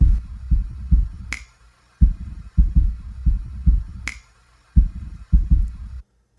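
A warped sampler loop plays a thumping, pulse-like beat in uneven bursts, with two sharp bright clicks cutting through and a faint steady background noise, no voices.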